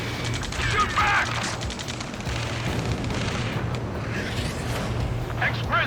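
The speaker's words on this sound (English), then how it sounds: "Taking fire! We're pinned down!" Sustained battle gunfire from the video game Ace Combat 7, a dense continuous rattle of shots with rumbling booms underneath, heavy throughout, with shouted voices mixed in.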